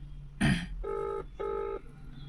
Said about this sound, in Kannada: ರಿಂಗ್ ಆತೈತೆ.